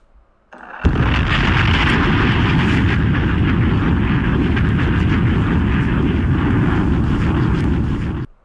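A bomb explosion sound effect, one loud sustained roaring rumble that starts abruptly and holds steady for about seven seconds before cutting off, heard alone.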